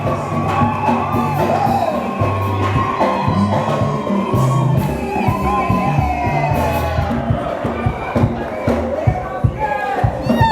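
Congregation at a church wedding cheering, whooping and shouting in acclamation, a dense crowd roar that stays loud and sustained throughout, with singing or music underneath.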